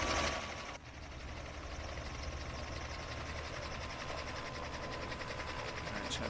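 A helicopter in Flight Simulator 2024 spooling down to ground idle on a landing pad gives a steady mechanical drone with a thin high whine, constant and moderately loud throughout.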